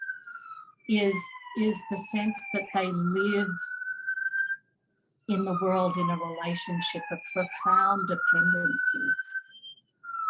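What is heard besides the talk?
police sirens passing outside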